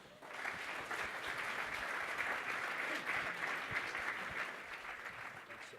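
Audience applause welcoming two keynote speakers to a conference stage, a steady sustained wash of clapping from a large crowd throughout, moderately distant.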